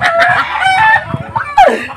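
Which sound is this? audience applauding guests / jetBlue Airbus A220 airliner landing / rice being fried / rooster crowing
rooster crowing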